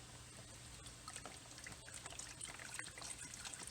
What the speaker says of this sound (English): I'm just going to pour this whole thing in my container here.